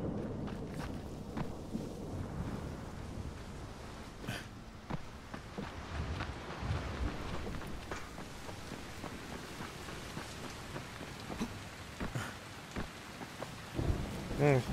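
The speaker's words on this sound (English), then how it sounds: "Great, it's raining now." Steady rain with thunder rumbling through a video game world, a continuous wash of falling water over low rolling booms, with occasional footsteps and faint talk beneath.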